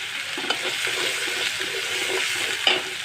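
Ginger paste with ground coriander and cumin frying in soybean oil for a country chicken and potato bhuna, a constant bright sizzling hiss close up, broken by occasional soft stirring taps and a sharper clink near the end.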